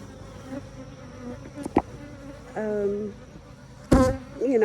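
Honeybees buzz around a backyard hive, individual bees droning past close by with rising and falling pitch over a steady outdoor background hum.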